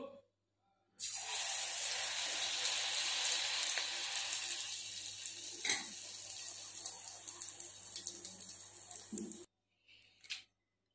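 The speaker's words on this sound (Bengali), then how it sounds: "দেখো আবার আর একটা ভাজছি।" Malpua frying in hot oil on a gas stove: a steady, loud hiss that runs unbroken for several seconds and then cuts off abruptly, followed by a brief faint sputter.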